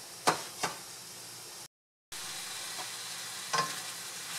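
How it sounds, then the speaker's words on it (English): Pork sautéing in a pan, rendering its fat for rice noodles: a soft, steady sizzle broken by a few sharp clinks of a utensil, with a short gap of silence in the middle. "we're going to let the meat saute and allow it to render some of the fat"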